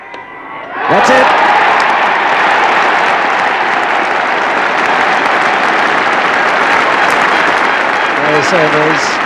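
A large crowd at a cricket Test match applauds steadily and loudly for the England side's century, a sustained wash of clapping that swells in after a brief lead-in and fades slightly at the end.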